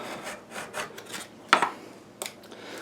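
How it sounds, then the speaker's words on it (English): Excess sandpaper is trimmed off a homemade sanding stick: soft, close rasping and scraping strokes with a couple of sharper snips or cuts, quiet and without speech. "Literally all that's left to do is obviously just trim off the excess"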